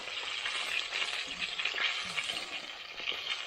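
Chicken frying in hot sunflower oil on a small cooker at a church: a dense, steady sizzle and crackle close up, continuous throughout with no voices.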